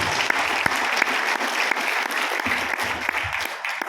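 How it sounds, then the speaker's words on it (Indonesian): An audience at a networking meeting breaks into sustained applause, a dense crackle of many hands with a few sharp louder claps standing out, continuing without talk. "Tepuk tangan buat kita semua."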